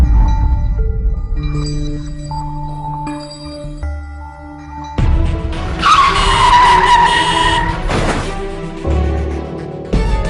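Car tyres skid and squeal loudly as a car swerves to avoid a motorbike, a sharp screech lasting a few seconds over music and road noise.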